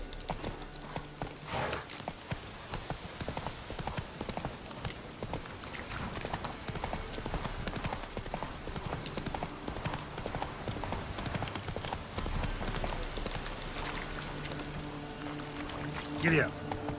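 In The Witcher 3: Wild Hunt, a horse gallops with rapid, rhythmic hoofbeats that run without a break under ambient game sound, while someone talks over it, and a short whinny rises near the end.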